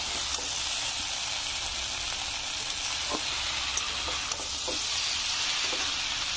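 Fish-head and vegetable chorchori with teasel gourd and stems sizzles in a pan after water is added, giving a steady close hiss with faint stirring clinks.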